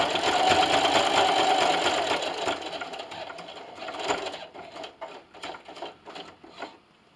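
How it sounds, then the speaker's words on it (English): A sewing machine stitches quilt binding on a table runner, a dense, even mechanical whir at first that breaks into shorter bursts and pauses, with small clicks and handling noises between runs, close by. "And then just sew."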